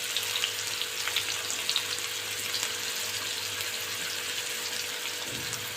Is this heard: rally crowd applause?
no